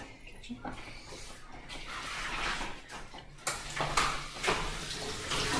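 Tap water runs in a kitchen sink as berries are rinsed, a steady hiss that splashes louder partway through, with voices talking over it.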